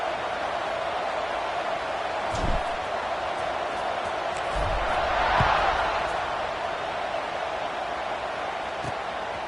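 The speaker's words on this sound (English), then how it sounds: "this crowd is buzzing after that last score" A college football stadium crowd keeps up a steady, dense roar throughout, with a few dull thumps rising out of the continuous noise.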